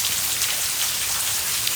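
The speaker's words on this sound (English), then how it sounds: "But so far it's just raining." Steady rain falls and patters on surfaces as a dense, even hiss with no voices.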